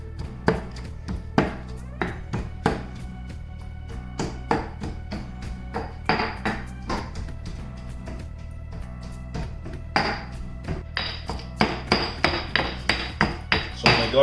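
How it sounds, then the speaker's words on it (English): Garlic pounded in a mortar kept just for garlic, a series of sharp, close thuds that come irregularly at first and then settle into a faster run of strikes, with no talking. "I am going to mash my garlic right here in my mortar that I use specifically for garlic."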